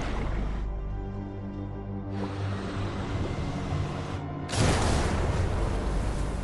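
A torpedo strikes a Japanese ship in a wartime submarine attack, and a deep rumbling explosion follows. It is loud and broadband, with a low roar that swells, dips briefly, then surges into a heavier blast near the end.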